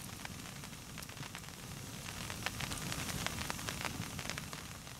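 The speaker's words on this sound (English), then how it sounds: "you can probably just hear the rain." Steady rain patters on a tarp over a bushcraft hammock camp at night, a dense, even hiss with scattered sharper drops, close and continuous with no talking.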